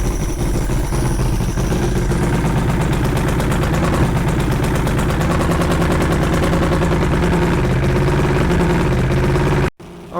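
Four-cylinder outboard engine at low idle, a loud steady rapid chugging close by that cuts off abruptly near the end.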